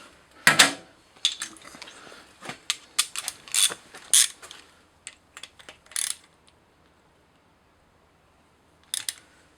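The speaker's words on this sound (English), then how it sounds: "We're going to go ahead now and try and crack it off with a wrench." A wrench works at a broken manifold bolt welded on an LS engine, making close, irregular metallic clicks and ratcheting taps in short bursts, then falling quiet.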